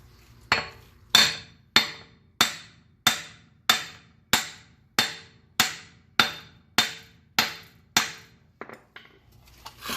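Steady hammer strikes drive a wheel bearing into the hub of a Honda Accord, about a dozen sharp metallic blows at an even pace of roughly two per second, close and loud, then a few lighter taps at the end.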